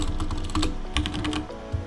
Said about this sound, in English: then you just type in whatever text you want